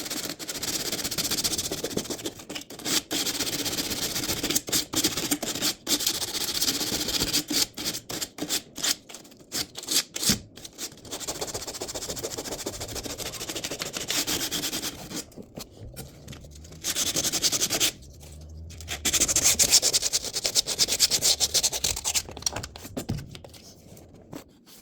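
Scraper or putty knife working paint off a window frame: irregular close scratching and rasping strokes, some bursts longer and denser, separated by brief pauses, with no voices.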